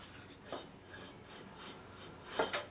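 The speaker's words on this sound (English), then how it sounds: "So I'm going to sand the magnets." Sandpaper rasping on the flywheel magnets of a Yard Machines rider mower, a few short dry scrubbing strokes at close range, faint at first and then two louder strokes near the end.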